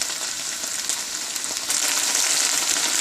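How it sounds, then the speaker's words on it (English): Okra sizzles and splutters in a kadai over high heat, a dense continuous frying hiss that grows a little louder partway through, with no voices. "So look at this, my bhindis, it's really getting spluttered."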